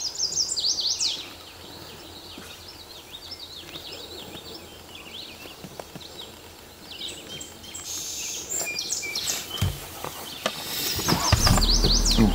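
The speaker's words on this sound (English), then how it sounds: "A nice golden winged warbler singing." High, buzzy golden-winged warbler song rises in short repeated phrases over steady outdoor background noise, fairly distant, with a louder rustle near the end.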